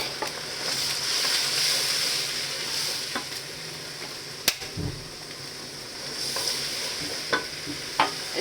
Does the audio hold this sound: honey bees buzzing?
no